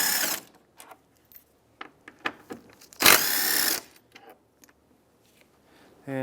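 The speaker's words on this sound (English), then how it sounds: "So we'll remove these two 10 millimeter bolts." Ratcheting tool clicks in short bursts while two 10 mm bolts are backed out of the air intake tube on a 2007-2015 Mazda CX-9, with a longer whirring stretch in the middle and quiet gaps between.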